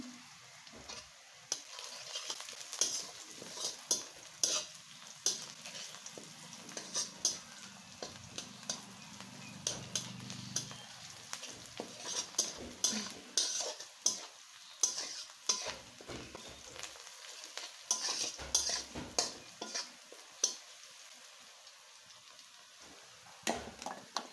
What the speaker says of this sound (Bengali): আমি এখন এই পেঁয়াজের মধ্যে 1 চামচ পরিমাণ আস্ত জিরা দিয়ে দিলাম।